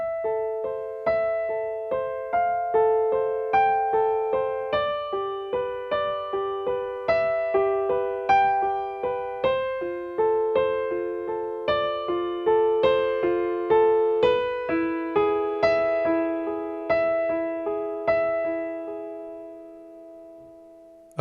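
Both hands on piano play a flowing passage, a steady stream of repeated notes and shifting chords for about twenty seconds, close and even, ending as the final chord fades.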